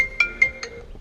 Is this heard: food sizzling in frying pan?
no